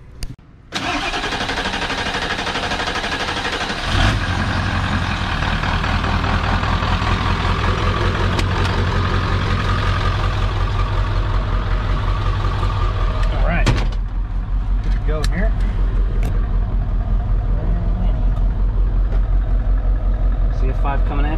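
A Ford OBS 7.3 diesel truck engine starts with a rough crank, then settles into a steady, deep idle that runs on continuously, with a brief clunk partway through.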